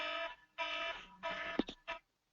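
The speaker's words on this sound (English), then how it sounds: "Let me just turn off this alarm" A beeping alarm sounds in a room, with three or four long, bright electronic tones separated by short gaps. A short knock or click comes near the end as it is switched off, and nobody talks.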